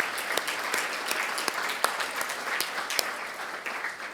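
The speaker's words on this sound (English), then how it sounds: "let's give another round of applause to Army Staff Sergeant Esther Yun Jung Kang for singing the national anthem" Applause at a military appreciation lunch for an Army staff sergeant who sang the national anthem, a dense, steady round of clapping from a sizeable audience with a few sharper claps standing out, sustained throughout.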